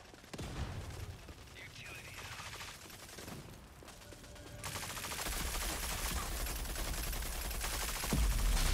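Gunshots crackle in a dense, continuous rattle of rapid fire, fairly close and loud, under a steady layer of background noise that thickens and grows louder partway through.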